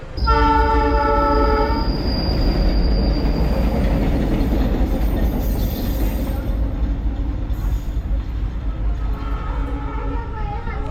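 A loud, sustained train horn blasts over the heavy rumble of a passing train, then sounds again near the end as the wheels roar on.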